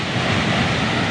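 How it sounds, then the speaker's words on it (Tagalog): Rushing water of Dunsulan Falls, a waterfall in Pilar, Bataan, roars as a loud, steady, broadband wash with no pauses and no voices over it. "Nagagaslas ng tubig mga ka-idol."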